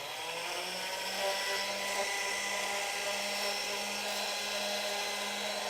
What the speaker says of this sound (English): you notice I have a trusty little motor on my machine